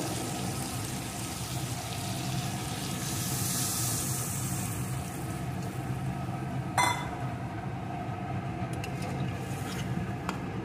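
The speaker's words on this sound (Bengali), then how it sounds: "এখন এর ভিতরে আমি দিয়ে দেবো জল।" Water goes into a hot pan of fried bitter gourd and potatoes, a steady hissing rush with a sharp burst of sizzle partway through and a few clinks near the end.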